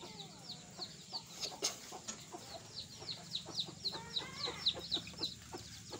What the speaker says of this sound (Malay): Beb, anak ayam kakinya 4